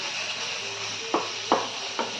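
Amla and green chilli chutney with turmeric frying in a pan, with a steady soft sizzle throughout and three sharp stirring scrapes near the end.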